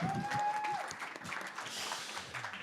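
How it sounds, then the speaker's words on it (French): Brief applause from the audience at a French round-table discussion on creating social media content, a scattered patter of clapping that starts loud and thins out over a few seconds, with a thin tone sounding near the start. "on peut applaudir d'ailleurs les personnes qui sont autour de nous"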